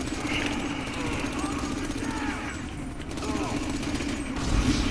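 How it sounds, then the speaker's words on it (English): Shotgun blasts and gunfire in GTA story mode with many police around, loud and dense, a continuous barrage of shots. "Dang, got shotgun in the back."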